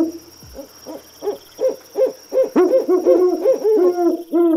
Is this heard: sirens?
no